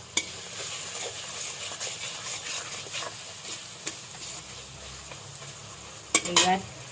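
A spoon stirs cabbage fried with spices in a pan, with a steady sizzle and scraping taps against the metal, ending in a brief louder clatter; no talking.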